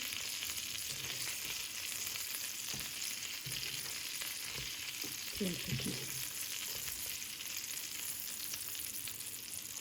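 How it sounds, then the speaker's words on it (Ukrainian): Steady, hissing sizzle of Ukrainian cheese pancakes (syrnyky) frying in a pan, continuous and close, with a few faint clinks and light handling noises partway through. "Сирнички смажаться"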